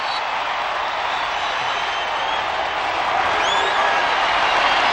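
A noisy stadium crowd roars steadily throughout a 1996 Nebraska vs Texas Tech college football game, a dense wash of cheering that swells slightly toward the end, with no clear talk over it.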